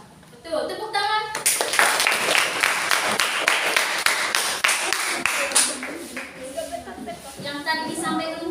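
Applause from a classroom of students, a burst of many hands clapping that starts about a second in and holds steady, with children's voices audible around it.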